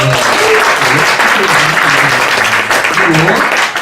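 A church congregation applauds in a sustained, dense wash of clapping that runs the whole length, with voices faintly mixed in underneath.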